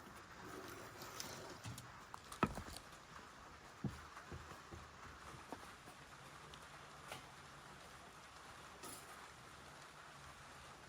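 Soft, steady rain patters outdoors in a Ukrainian village, a faint continuous hiss with scattered louder drops and occasional knocks, no voices.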